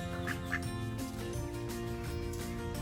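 Ducks quacking on a farm, faint and somewhat distant, with a couple of short quacks early on, heard under a steady musical background.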